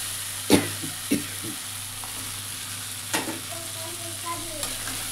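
Pointed gourd pieces tossed into a pan of frying potatoes, landing with a few sharp clattering hits and stirring scrapes over a steady low sizzle, close and moderately quiet.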